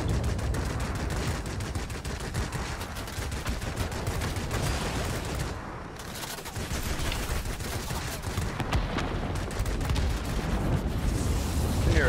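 Rapid aircraft gunfire in the World of Warplanes flight game, a dense, continuous stream of loud bursts roaring over engine noise, dipping briefly midway before resuming at full intensity.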